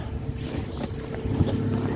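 A boat engine straining while the boat is stuck in ice, a low, labouring drone heard close up with wind buffeting the microphone, steady and fairly quiet for the whole short stretch.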